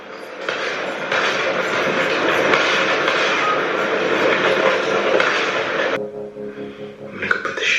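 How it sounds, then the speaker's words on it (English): A train rolls past on rails with a steady, loud rumbling and clatter that fills the clip, then drops away abruptly near the end. "The train again!"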